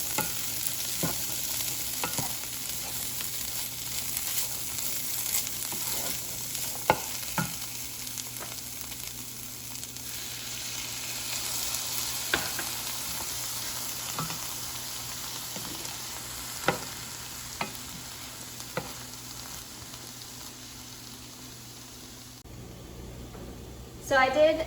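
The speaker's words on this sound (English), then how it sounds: "We're going to toast those spices for just a minute, and then I'm going to add half a cup of vegetable stock." Spices and sweet potatoes sizzle steadily in a pan with vegetable stock for black bean enchiladas, a continuous frying hiss broken by scattered spoon clicks and scrapes of stirring, with a louder clatter near the end.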